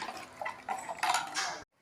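A spoon stirs carrot rasam in a metal pot, scraping and swirling with soft clinks and sloshing for a couple of seconds before it stops abruptly.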